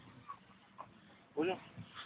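A pitbull in a park gives a brief high whimper among quieter sounds, while people talk nearby.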